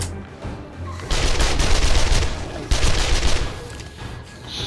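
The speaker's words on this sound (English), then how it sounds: "Hosing him with the SMG, this dude so well." Rapid bursts of tier 1 SMG fire in the console version of the video game 7 Days to Die during a chaotic zombie horde night, loud and close, with two dense volleys in under five seconds and no talk.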